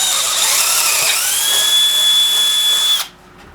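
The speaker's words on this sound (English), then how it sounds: "Let's start by drilling the hole in the wood." A power drill whines steadily as it bores a hole through wood, loud and close for about three seconds, its pitch sliding slightly as the bit bites, then cutting off abruptly into near silence.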